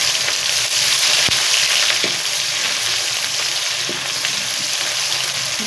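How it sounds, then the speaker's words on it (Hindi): Chopped onions sizzle in hot oil in a kadai, a loud, continuous crackling hiss with occasional clicks of a spoon against the pan, close and steady, with no talking. "ये देखें, मैंने प्याज डाल दिया।"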